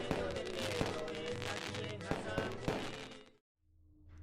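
Fireworks rockets going off at a lively outdoor festival with singing and tiple music, a dense crackling, popping barrage with several sharper bangs, fairly distant, stopping abruptly near the end.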